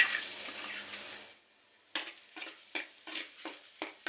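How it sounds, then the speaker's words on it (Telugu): Finely chopped garlic goes into hot oil, giving a soft, fading sizzle. A quiet pause follows, then a series of short scraping and stirring bursts in an uneven rhythm, close but faint. "ఆయిల్ వేడైంది కదా ఇందులోకి సన్నగా తరిగి పెట్టుకున్న వెల్లుల్లిపాయ ముక్కలు వేసుకుంటున్నాను"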